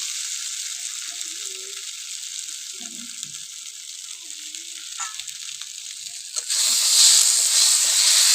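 Rui fish and kohlrabi curry sizzles steadily in a pan as it is sautéed, a constant close frying hiss that swells louder near the end, with no talk.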